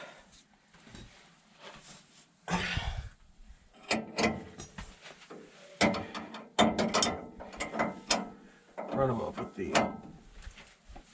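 Socket ratchet running bolts up, rapid clicking bursts close by in irregular spurts, with a voice talking at moments over the mechanical clatter.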